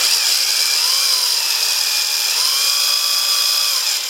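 A power drill whines steadily at high speed, close up, boring into material for about four seconds with no talking.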